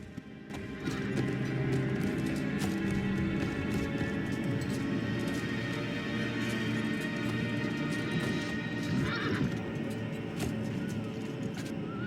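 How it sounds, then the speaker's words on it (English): Cavalry horses gallop in a Medieval 2 Total War battle, with continuous drumming hoofbeats, repeated neighing and whinnying, and a dense battlefield din held at a steady, loud level throughout. "And cavalry to drive through the enemy and run down deserters."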